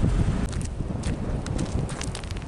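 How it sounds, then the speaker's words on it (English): Wind blows outdoors at an RV resort beside a lake, buffeting the microphone with a continuous low rush broken by faint irregular rustles and clicks, fairly quiet and with no talking. "It's windy."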